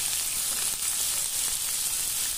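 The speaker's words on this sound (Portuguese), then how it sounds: "O bacon já está prontinho, fritinho. Vamos soltar aqui, gente, a cebola." Chopped onion goes into hot rendered bacon fat for sautéed collard greens, giving a steady, dense, close sizzle that hisses evenly throughout without pauses or voices.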